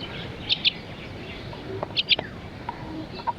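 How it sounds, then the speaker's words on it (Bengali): Bird calls in a riverside char village, with short, sharp chirps in pairs at about 0.5 and 2.0 seconds, plus a few fainter notes, over low outdoor ambience and no speech. "চরে এসে শালিক পাখির সাথে দেখা হয়ে গেছে"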